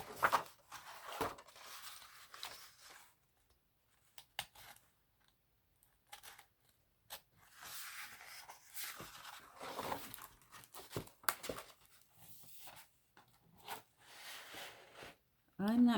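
Sharp scissors snipping loose binding threads on a quilt, a scattered series of brief crisp cuts and rustles of fabric separated by quiet gaps, close and fairly soft.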